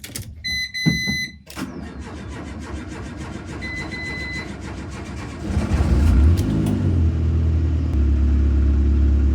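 A Renault Twingo engine is started, cranking after a few electronic alarm beeps, then catching and settling into a steady idle that swells louder toward the end.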